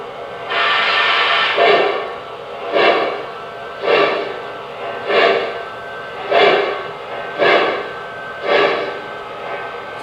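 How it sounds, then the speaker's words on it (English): An American Flyer Y3 model locomotive runs with a steady electronic chuff, loud and close, giving about eight evenly spaced puffs over a constant motor hum. "the smoke unit will puff in sync with the chuffing sound"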